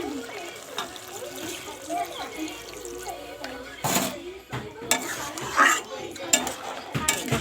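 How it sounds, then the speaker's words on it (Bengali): Water poured into a cooking pot of soybean curry, coming as two short, loud gushing bursts over quieter kitchen clatter. "এবারে পানি ঢেলে দিই দেখো"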